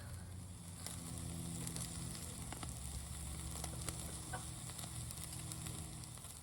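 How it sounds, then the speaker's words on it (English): Meat sizzles and fries on a small, compact portable charcoal barbecue grill, a dense, close, steady crackling hiss with scattered sharp pops, continuous throughout with no talking. "My meat is cooking really well."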